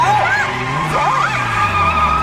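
A car on a racing run brakes hard, and its tires squeal and skid loudly over a roaring engine, with wavering screeches across the whole stretch.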